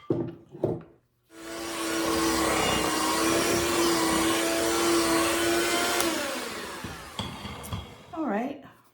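An electric hand mixer with beaters whirs steadily through fruitcake cookie dough for about five seconds, then winds down, with a voice heard briefly before and after.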